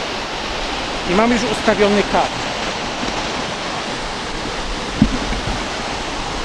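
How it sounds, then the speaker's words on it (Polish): A waterfall on a river or stream rushes as a steady broadband hiss of falling water, with someone speaking briefly over it early on and a single soft knock later. "A ja będę fotografował teraz właśnie ten wodospad tu."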